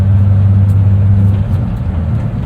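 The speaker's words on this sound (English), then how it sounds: "You just get a little bit of drone in the cabin of that thing, like whirring away" A manual 1993 Ford F-150 with an inline-six engine drones steadily from inside the cab while driving, a constant low hum that stays loud and even throughout with no voices.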